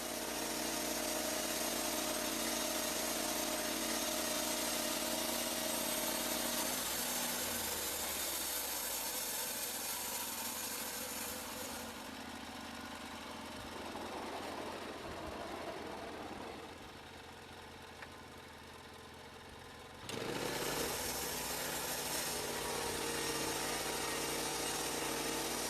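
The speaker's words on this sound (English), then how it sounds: "The Lumber Pro cuts through hardwoods and softwoods alike." A Lumber Pro sawmill cuts through logs, making a loud, continuous mechanical drone with a whining blade. The pitch and load shift as the cut progresses, dipping midway and surging back near the end.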